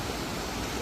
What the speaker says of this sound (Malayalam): വെള്ളം ഇങ്ങനെ ഒലിച്ചിങ്ങനെ പോകും